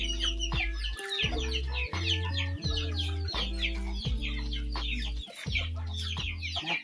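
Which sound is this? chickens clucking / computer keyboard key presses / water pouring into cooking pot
chickens clucking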